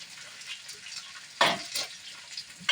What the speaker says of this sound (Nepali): एकदम मजाले ड्राई फ्राई गर्नुपर्छ।